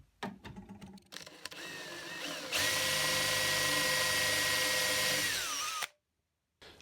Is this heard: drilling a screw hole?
yes